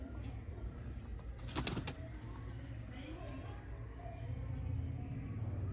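Red-eyed champion pigeons coo softly in a low, repeated murmur, with a brief clattering rustle in the middle and faint background noise.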